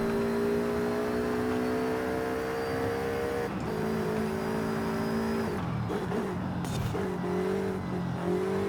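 A car engine hums and shifts pitch as it drives in the racing game Forza Horizon 5, a loud continuous whine with gear changes and dips around corners, heard alone.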